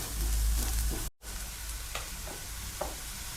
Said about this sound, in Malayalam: ഉള്ളി, പച്ചമുളക്, വെളുത്തുള്ളി, ഇഞ്ചി ചെറുതായി അരിഞ്ഞത് അതിങ്ങനെ അടിക്ക് പറ്റാണ്ട് ഇങ്ങനെ ഇളക്കിക്കൊണ്ടിരിക്കണേ